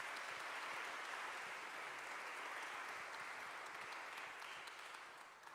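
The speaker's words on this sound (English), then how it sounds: "Can we give them one more round of applause?" Sustained audience applause at a church-state theology panel event, loud and dense throughout, tapering slightly at the end.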